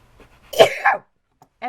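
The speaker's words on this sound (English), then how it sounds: "I'm going to sneeze" A single sharp sneeze bursts out close by, loud and brief, followed by quiet.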